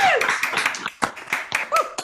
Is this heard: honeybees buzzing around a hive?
no